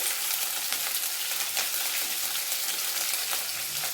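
Curry leaves, green chillies and onion fry in hot oil for sabudana uppittu, giving a close, steady sizzle with faint stirring scrapes.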